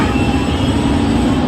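A train at Badlapur railway station rumbles loudly and steadily nearby, a continuous broadband roar of rolling carriages with no voices on top.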